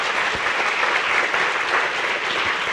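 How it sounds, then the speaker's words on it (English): A conference audience applauds John Kappenman, a talk on solar storm impacts on the power grid, with steady, dense clapping filling the whole stretch at a fairly loud, even level. "Let's hear a round of applause for John Kappenman."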